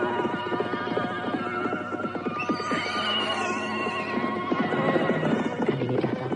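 A horse whinnies loudly and its hooves clop as a rider arrives on horseback in an Indonesian radio-drama scene, with the neighing rising and falling over a steady, close hoofbeat rhythm and a low background hum.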